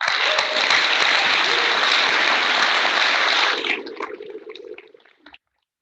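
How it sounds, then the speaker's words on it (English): Audience applause fills a Founders Day fraternity banquet hall, a dense, steady clatter of many hands for several seconds before thinning into scattered claps and fading out. "we'll give him another round of applause"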